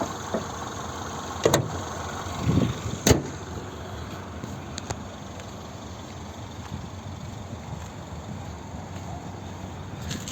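Exhaust of a 2011 Peugeot 5008 with a 1.6 petrol engine and automatic gearbox, idling steadily close by, with a few sharp clicks and knocks early on and no talk.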